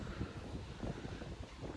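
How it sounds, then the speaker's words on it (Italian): Strong wind buffets a microphone outdoors at a farm stay, a steady low rumbling roar with gusty swells throughout and no speech. "C'è un vento che spacca."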